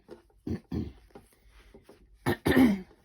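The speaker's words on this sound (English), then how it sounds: "keep having to clear my throat" Someone recovering from pneumonia clears their throat several times in short rough bursts, ending with a louder, longer hack, close and otherwise quiet.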